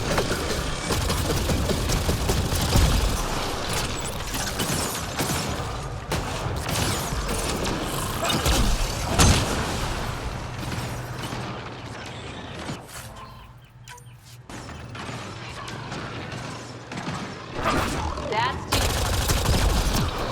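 Dense gunfire from a firefight against remnant enemies in Mass Effect Andromeda, rapid bursts and single loud shots crackling almost continuously with a brief lull, while voices talk over the fighting.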